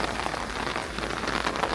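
Heavy rain falls hard on the ground at the ancient Roman Forum, a loud, steady hiss with dense drop patter close by and no voices.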